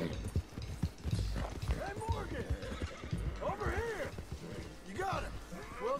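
Horse hooves gallop in Red Dead Redemption 2 with rapid, irregular clip-clop beats, a whinny, and people talking over the hoofbeats throughout.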